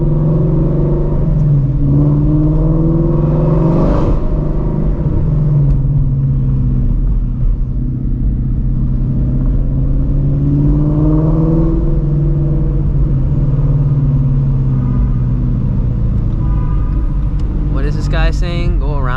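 Straight-pipe Ford Shelby GT350 driving through a city at night, its engine rumbling loudly with rising and falling revs, while people talk over it inside the car.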